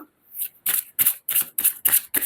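Tarot cards are shuffled and dealt out in a quick series of about seven crisp riffles and slaps, each a short burst separated by brief gaps, close and clear with no talking.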